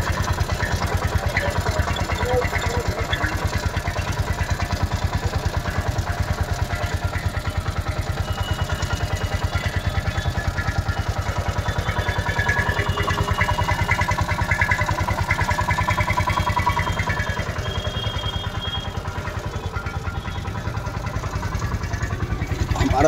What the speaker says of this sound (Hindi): आप इंजन का साउंड सुन सकते हैं।